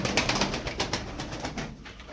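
Tumbler pigeons, game birds of the ballı and menekşe types, cooing close by in soft repeated pulses over a dense, steady background of more birds, with no voices.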